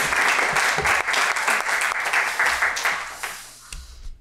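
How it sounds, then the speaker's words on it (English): An audience at a high school student film festival breaks into loud applause that holds steady, then thins and fades out over about four seconds. "can we just get a round of applause for Michael and the team here"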